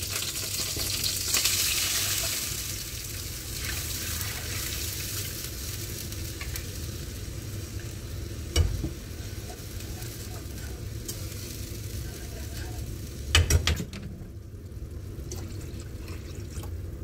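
Red chillies and curry leaves sizzle and fry in hot oil in a home kitchen, a steady hiss running throughout with a couple of brief clatters of stirring, and no talk.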